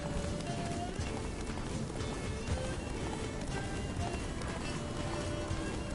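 Horse galloping in The Witcher video game, a dense steady patter of hooves running on without pause at even loudness, blended with game background sound.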